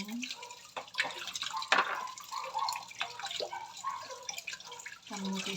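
Sweet potato leaves rinsed under running water, with intermittent drips, splashes and rustling at close range. A voice is heard faintly at times.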